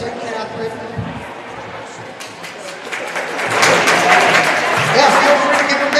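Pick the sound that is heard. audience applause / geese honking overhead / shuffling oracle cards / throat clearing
audience applause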